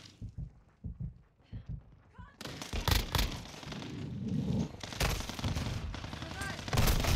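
Rapid bursts of gunfire in a video game shootout, a firing squad of five opening up at once, loud and dense with overlapping shots after a quieter stretch of scattered sounds.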